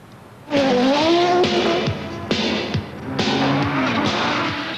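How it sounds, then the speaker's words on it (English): An Audi Quattro race car screams past at full power, engine wailing loudly through gear changes with rising and falling pitch, several sharp shifts and bursts in quick succession. "This is an Audi Quattro at full song."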